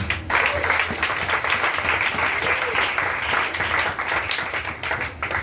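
A church congregation applauding during a sermon, dense sustained clapping from many hands that fills the room at a steady loud level for several seconds.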